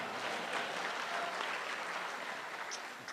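Audience clapping at Amanullah Khan's live comedy show in Muscat, a dense, steady wash of applause from a crowd that fades slightly toward the end.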